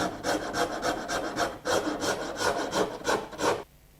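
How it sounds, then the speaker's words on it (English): A rasp works wood up to a scribed line, rubbing in quick, even back-and-forth strokes, loud and close, in two runs separated by a short pause before stopping. "I can just come in with a rasp and just"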